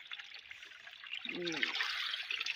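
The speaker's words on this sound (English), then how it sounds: "This is the river." A village river flows steadily, giving a continuous trickling, bubbling rush of water close by; a brief voice is heard under it partway through.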